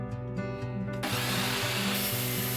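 A power tool cuts oak barrel-stave table legs to size, a steady loud motor whine with a rhythmic pulsing load as the blade bites the wood, running continuously and close.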